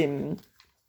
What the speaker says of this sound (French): je suis désolée pour le bruit, hein, mais vous avez mes chiens qui sont avec moi